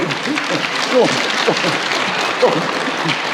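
An audience at a speech claps steadily in a moderate, even patter, with a few voices mixed into the applause.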